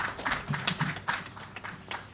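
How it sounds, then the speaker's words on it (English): Scattered clapping from an audience at a company's annual general meeting, a brief uneven patter of hands that rises and then thins out, moderately close. "So can we give them a loud applause?"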